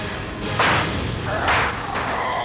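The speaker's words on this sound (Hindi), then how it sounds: "तोड़ दो दरवाजा" Door being forced open in a police drama, heard as two heavy thudding impacts about a second apart over a steady dramatic background.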